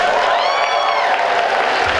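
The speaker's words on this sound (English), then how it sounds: "Everybody give him a round of applause" An audience at a cosplay masquerade gives a round of applause. Steady, dense clapping and cheering fill a large hall, loud and continuous for the whole stretch.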